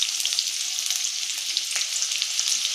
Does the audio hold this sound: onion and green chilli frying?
yes